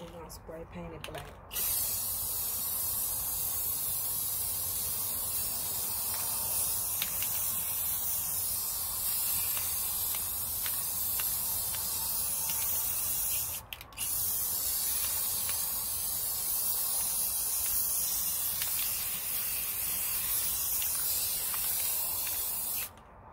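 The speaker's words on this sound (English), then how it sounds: "And we're gonna spray paint it black." Can of black spray paint hissing in long, steady bursts, close and loud, with a brief pause near the start and another midway before spraying resumes.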